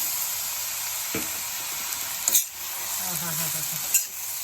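Egg fried rice sizzles steadily in a pan after soy sauce is added, a close hiss with a couple of brief louder bursts and faint clinks, and no one speaks.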